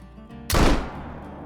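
A single loud rifle shot fired at a European bison in a hunting game, a sharp close crack followed by a short rolling decay into quiet ambience.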